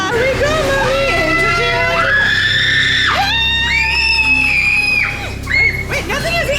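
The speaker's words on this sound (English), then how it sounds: "I just hear screaming." Shrill, drawn-out screams rise and fall inside a fairground haunted house ride, several overlapping wails that rise and bend in pitch, loud and close over a dim background din.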